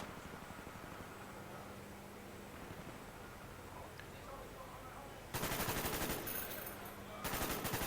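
Gunfire in a competitive video game match, with short bursts of automatic shots standing out over a steady wash of game noise and background sound.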